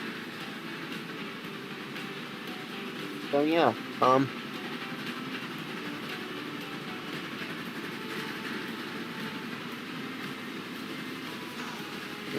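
A train runs on rails in the video game Transport Fever 2, a quiet steady rolling hum with a brief louder clatter early on while someone talks over it.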